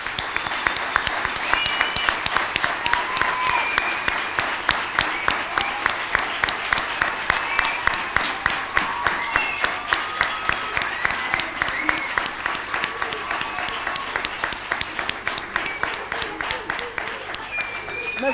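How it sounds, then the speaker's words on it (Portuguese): A large audience at a community closing event breaks into loud, sustained applause, a dense wash of clapping that continues without pause for the full length, with faint crowd voices mixed in. "eu peço uma grande salva de palmas para a Filipa."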